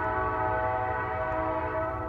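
A train passes close by with its horn sounding, a steady, loud, sustained blast over heavy rumbling rail noise throughout.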